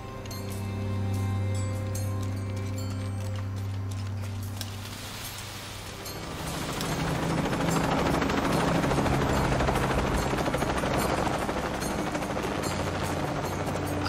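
A helicopter in Shadow of the Tomb Raider first hums low and steady, then swells into a louder, dense rotor roar over the last half, with no talking.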